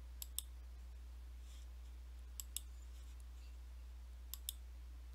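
Computer mouse clicks come in three quick pairs spaced a couple of seconds apart, crisp and close over a quiet steady low hum.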